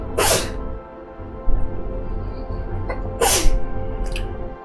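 Two sharp sneezes, one near the start and another about three seconds later, break through steady low background noise during a tabletop D&D game session, with a faint smaller burst following.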